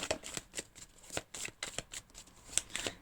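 A deck of cards is shuffled for a tarot-style card reading, giving a quick series of soft, crisp riffling snaps and flicks, close and fairly quiet, with no voice.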